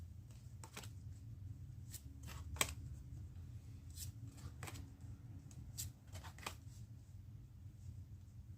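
Tarot cards riffled and drawn for a reading, a series of quick crisp flicks and snaps at close range over a low steady background hum, with no talking.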